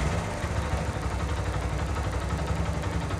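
A Yamaha Fazer motorcycle engine idles after repairs to its current and 12-volt electrical fault, giving a steady, close, low rumble with a fast, even pulse and no speech.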